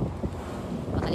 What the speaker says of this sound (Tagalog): Malakas kasi yung hangin dito